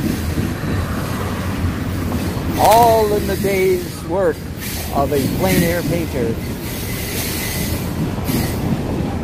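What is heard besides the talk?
long freight train passing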